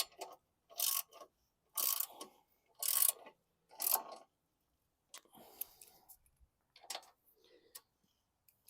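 A hand ratchet tightens bolts on a 2009 Weedeater lawn mower, giving several quick bursts of clicking separated by pauses, then lighter scattered ticks and clinks near the mic, with a faint voice between them.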